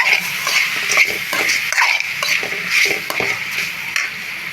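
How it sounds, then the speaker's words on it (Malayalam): Vegetables fry in a pan as salt and turmeric are stirred in, a steady close sizzle broken by repeated scraping strokes of a spoon against the pan, no talking. "ഇച്ചിരി മഞ്ഞൾപ്പൊടി കൂടെ ചേർത്ത് ഇളക്കാം"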